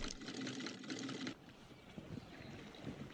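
A sewing machine in the 2002 film 28 Days Later runs in a fast, steady stitching rattle for over a second, then stops abruptly, leaving a quieter low background hum.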